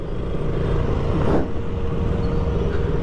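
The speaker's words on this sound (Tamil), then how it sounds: "ஐயோ, டிராஃபிக் தாங்க." Steady road traffic rumbles close by, with a passing vehicle swelling briefly in the middle and a constant engine drone underneath.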